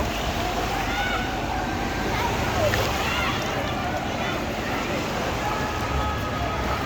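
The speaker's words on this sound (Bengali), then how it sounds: "অনেক উঁচু উঁচু ঢেউ আসতেছে অনেক বড় বড় ঢেউ দেখেন" Sea waves at Cox's Bazar beach crash and roll in a continuous broad roar, loud and steady throughout, with wind noise and faint voices of a crowd in the background.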